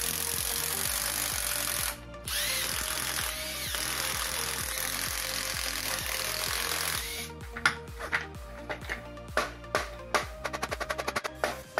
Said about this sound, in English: I'm gonna try using a rotary brush, which might work because this part is actually made out of plastic.